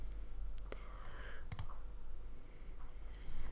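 A few sharp computer mouse clicks sound close in a quiet room during GIMP editing, coming singly and in a quick double, over faint background hum.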